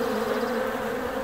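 A steady, dense buzz of many honeybees crowding the top of a hive entrance in Newfoundland in July, close and continuous with no talk.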